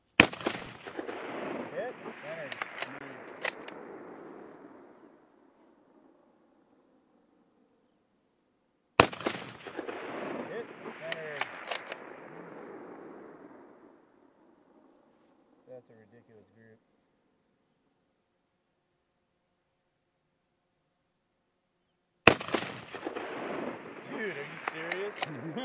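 Rifle shots from a .224 Valkyrie fired at a 600-yard target, three sharp loud reports spaced well apart, each followed by a long fading echo rolling across the range, with brief faint activity between.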